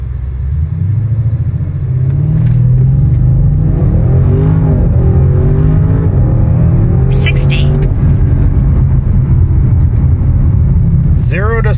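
A stock 2021 Audi RS6 Avant revs and accelerates hard, its loud, close engine note climbing in rising sweeps over a deep rumble, with brief voices breaking in.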